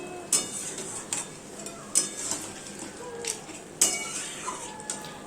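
A spoon stirs a potato dish in a cooking pot, giving sharp metallic clinks and scrapes against the pot every second or so over a quiet background.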